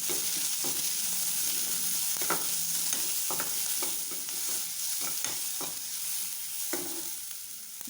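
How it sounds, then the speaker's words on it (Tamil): Shallots sizzle steadily in a hot pan while barley congee is being made, with occasional scraping clicks of a spatula stirring them. No voices. "லைட்டாக வதங்கட்டும் சின்ன வெங்காயம்."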